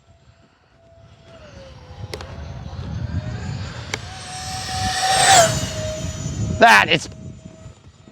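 E-flite A-10 RC jet with twin 64mm ducted fans flying past outdoors, a rising whine that builds and peaks as the model passes close overhead, then fades, with people talking and exclaiming over it.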